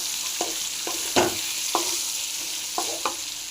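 Amla gooseberries stirred and fried in oil for pickle, with a steady background sizzle broken by a series of distinct scraping spoon strokes at a moderate, uneven rhythm.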